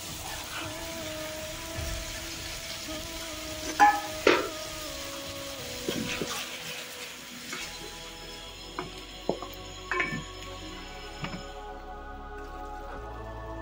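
Tomatoes being fried and stirred for green mung daal, a steady soft sizzle with several sharp scraping knocks of a spoon against the pan, fading quieter toward the end.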